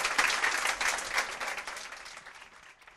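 An audience applauds a guest at a literary talk, a brisk, full round of clapping from a roomful of people that tapers off over a few seconds.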